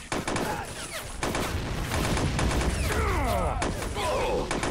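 Rapid machine-gun fire and explosions in the Lego Men of War battle simulator game during a WW1 trench battle, dense continuous bursts with thuds, heard alone.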